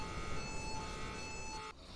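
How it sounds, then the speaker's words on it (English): A base alarm in the video game Path of Titans sounds a steady, sustained electronic tone over a low rumble, then cuts off abruptly near the end. "I just need to disable this alarm first."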